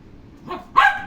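A dog gives two quick barks close by, a short soft one followed by a louder, sharper yap.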